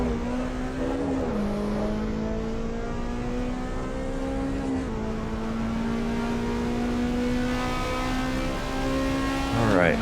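Honda S2000 engine in the racing game Assetto Corsa EVO, a sustained buzzing engine tone holding fairly steady with slight pitch shifts as revs rise and dip, loud and continuous with possible faint talk underneath.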